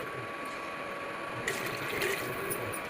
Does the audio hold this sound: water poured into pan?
yes